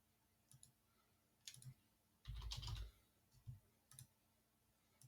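Quiet clicks on a computer keyboard as a stream title is typed, a few separate key presses followed by a short denser burst of typing, close and soft against a faint background hum.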